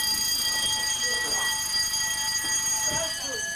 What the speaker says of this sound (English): I will ring the fire alarm and turn it off.